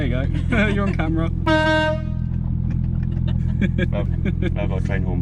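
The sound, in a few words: train horn fitted on a widebody R33 Skyline car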